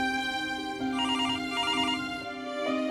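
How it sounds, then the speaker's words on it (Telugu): A phone rings with two warbling electronic trills over a sustained musical background. "నేను నీకు ఫోన్ చేశాను రాము."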